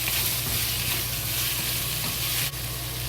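Carrots stir-fried with ginger in a hot pan, a loud continuous sizzle with a brief dip near the end, close and without talk.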